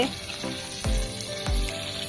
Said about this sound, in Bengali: ভালোই তো মাছ ভাজা হচ্ছে